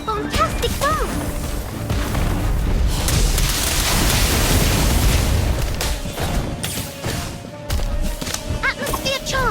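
Spell explosions from Harry Potter: Magic Awakened, a loud sustained magical blast with crashing booms, chiming effects and game music, under excited voices and casting shouts.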